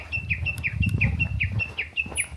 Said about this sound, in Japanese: この野鳥の声がね、 いっぱい聞こえるのもいいよ。